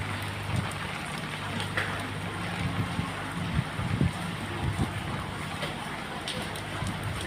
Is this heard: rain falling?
yes